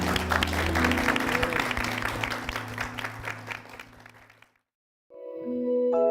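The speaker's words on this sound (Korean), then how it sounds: "주님께 영광의 박수 올려드리겠습니다." Church congregation applauding, a dense wash of clapping for about four seconds that fades out, followed by silence and then an organ or keyboard tone.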